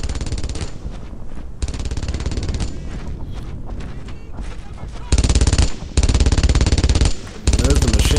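Enemy machine gun in Brothers in Arms: Earned in Blood, a WWII shooter, blasting loud, dense continuous bursts up close, with brief pauses between strings of rapid fire.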